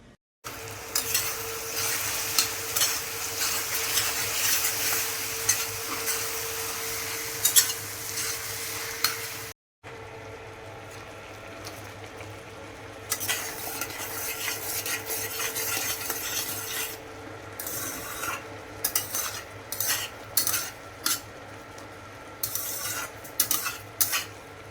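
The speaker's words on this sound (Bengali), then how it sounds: "এখানে আমার মাংস কষানো হয়ে এসছে, আর একটু কষানো হয়ে গেলে আমি জল দিয়ে দেবো" Meat is sautéed and stirred in a pan, giving a loud close sizzle with constant scraping of a spatula. A short break is followed by choppier, intermittent stirring strokes against the pan.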